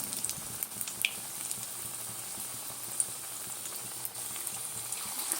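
Drumstick flower fritters frying in hot oil give a steady, even sizzle with faint crackles and pops throughout, heard alone without speech.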